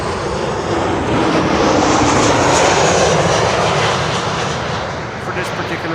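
A Boeing 737-800 arriving at Schiphol from Copenhagen roars loudly and close, engine noise swelling to a peak and then easing slightly as it passes.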